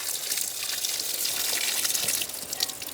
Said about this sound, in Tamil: அரிசி வடித்து ஊற்றின தண்ணியாக அண்ணாசிலேயே ஊற்றி விட்றேன்